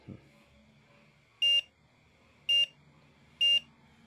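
Multimeter continuity beeper testing a shorted Vivo Y81 phone board, three short sharp beeps about a second apart over quiet background.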